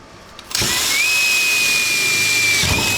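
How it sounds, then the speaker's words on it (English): A power drill starts up drilling a hole and whines steadily at high speed for a couple of seconds, loud and close, then winds down. "Drill your hole."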